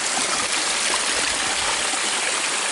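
Mineral-laden water trickles and streams out of a mountainside near caves, a steady close broadband rush of flowing water with no pauses and no voices.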